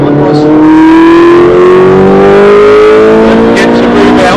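Race car engine pulling hard on the Brands Hatch Indy circuit in wet, drying conditions, a loud close engine note rising steadily in pitch as it accelerates, with a brief whoosh near the end.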